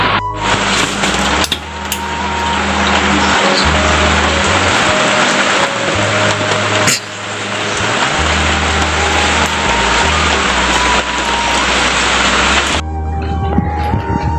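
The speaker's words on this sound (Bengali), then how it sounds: "বৃষ্টি পড়ছে কিন্তু অনেক জোরে" Heavy rain pours down steadily in a dense, loud hiss with a constant low rumble beneath, continuous throughout with a brief dip in the middle.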